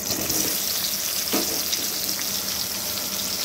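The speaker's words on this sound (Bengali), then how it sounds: "তেলটাকে খুব ভালো করে গরম করে নিয়েছি আর এর মধ্যে সেদ্ধ করা আলুগুলোকে দিয়ে" Boiled potatoes hit hot oil in a wok and fry with a loud, steady, hissing sizzle that holds throughout, no voices over it.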